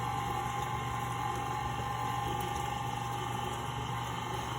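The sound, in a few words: milk being poured slowly into cake batter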